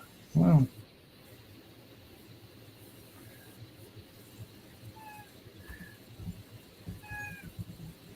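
A child imitates a cat with one loud, drawn-out meow at the start, close to the microphone, followed by quiet room noise with faint, scattered squeaks and thin tones.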